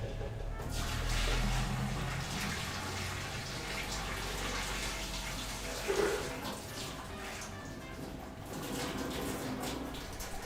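Water pours and gurgles steadily as a pot of boiled eggs is drained into a kitchen sink, a continuous rushing splash with a brief louder surge partway through.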